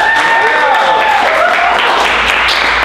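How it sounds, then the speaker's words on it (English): Audience at the 2024 Miami Improv Festival applauds, a steady, loud wash of clapping from a full room that continues throughout, with a voice speaking over it. "One more round of applause for Diane."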